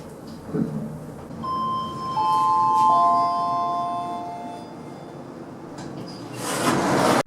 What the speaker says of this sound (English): And here are the trams.